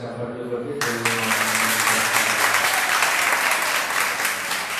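Church congregation at a Sunday worship service breaks into loud, dense applause after a brief spoken lead-in, sustained clapping filling the rest of the moment without letting up.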